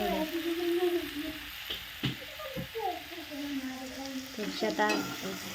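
Food being stir-fried in a pan at home, with repeated scraping stirs over a soft sizzle while voices, including a child's, carry on in the background.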